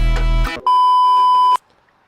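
A loud, steady censor bleep tone holds for about a second right after a burst of music, then cuts off into near silence.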